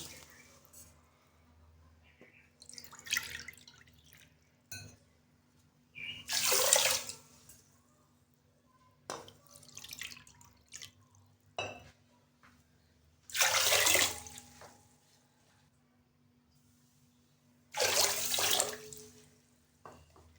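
Water splashes into a cooking pot in several separate pours, each a few seconds long, with quiet gaps in between, for suji halwa.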